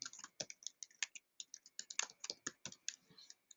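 Rapid, irregular clicking of keys as someone types on a computer keyboard, close and crisp with brief pauses between bursts.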